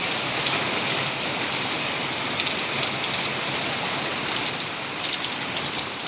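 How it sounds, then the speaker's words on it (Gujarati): Torrential rain falling in Gordka village near Gadhada, Botad, in the evening, a thick unbroken hiss and patter of drops hitting the ground nearby, steady throughout with no speech. "બહુ વરસાદ આવી જવા જ રહે છે"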